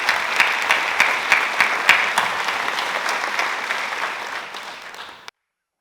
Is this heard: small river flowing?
no